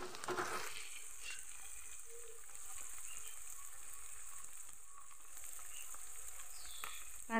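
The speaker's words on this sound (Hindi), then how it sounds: "पाँच दस मिनट इसे भी अच्छी तरह से चलाते रहूँगी ताकि ये टमाटर भी अच्छी तरह से उसमें घुल मिल जाए" Tomatoes frying in a pan for kala chana chole, a steady soft sizzle with faint scraping from stirring, without talk.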